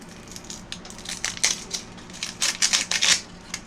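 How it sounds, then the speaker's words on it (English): A knife cuts down through the dry brown skin of an onion, giving a series of close, crisp crackling crunches in irregular bursts over a quiet background. "we're just going to take that knife right there. Cut down through that brown skin"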